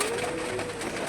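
Domestic pigeons in a coop, one sitting on eggs, coo softly and continuously at close range with no talking.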